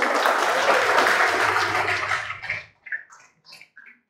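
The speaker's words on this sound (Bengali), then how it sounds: "জোরে আর একটা হাততালি হোক।" A hall audience at a mock-test prize-giving ceremony bursts into loud, dense clapping that holds for about two and a half seconds, then breaks off into a few scattered, fading claps.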